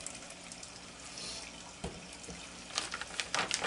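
Mojo marinade poured from a jug over baby back ribs, a quiet liquid trickle and splash that grows busier toward the end, close and alone.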